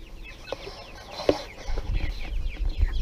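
Baby chicks cluck and peep while pecking at feed thrown on the ground, with soft scattered calls and a few close taps and rustles throughout.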